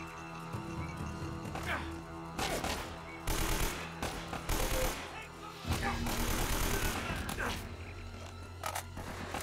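Gunfire in the video game Uncharted: Drake's Fortune, with rapid bursts of automatic shots crackling in loud clusters, broken by brief pauses, with no talking.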